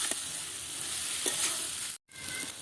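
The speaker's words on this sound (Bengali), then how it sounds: "ভেজে রাখা বেগুন দিয়ে দেব। ভালো করে মশলার সঙ্গে মিশিয়ে নেব।" Fried eggplant sautés with spices and onion in a pan, giving a continuous soft sizzle with light scraping stirs and a brief silent gap near the end.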